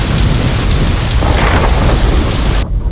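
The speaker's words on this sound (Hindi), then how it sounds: "बारिश जोरों से हो रही है" Heavy rain pours steadily in a dramatic film scene while a deep roll of thunder rumbles loudly underneath, the dense downpour continuing without pause until it cuts off sharply near the end.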